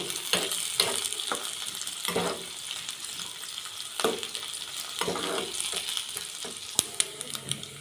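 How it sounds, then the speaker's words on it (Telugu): Dried prawns, washed and then dry-roasted in a pan, crackle and sizzle steadily, with repeated louder scraping bursts as they are stirred, close and alone with no talking. "ఇవి వేయించుకోవాలండి. పచ్చి వాసన పోయేంత వరకు వేయించుకోవాలండి."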